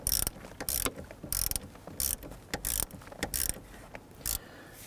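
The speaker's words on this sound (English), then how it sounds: "let's go ahead and tighten down the terminal nut here" Battery terminal nut being tightened on a Jeep Grand Cherokee, a close series of short metallic ratcheting bursts with brief pauses between pulls, no voices.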